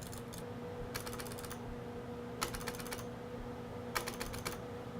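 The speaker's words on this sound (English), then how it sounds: "It's clicking every time." A computer mouse button, repaired with conductive silver pen, clicks in fast bursts of rapid taps, three clusters spaced about a second and a half apart over a low steady hum, close and clear with no talking.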